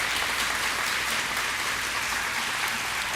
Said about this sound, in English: Could you give my class one more round of applause